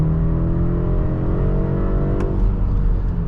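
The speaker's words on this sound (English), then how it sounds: "But let's do a full accel here." A 2024 BMW 530i with a 2-liter turbocharged four-cylinder at full acceleration from inside the cabin: a loud, steady engine drone whose tone climbs smoothly as it revs, with no talking.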